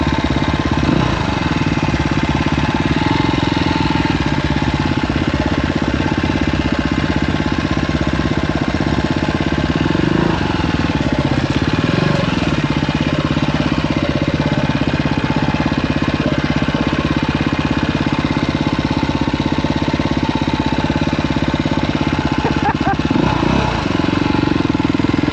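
Dirt bike engine heard during a ride through Philadelphia streets, a continuous loud, rough mid-pitched drone with slight surges, close and steady throughout, with faint voices in the background.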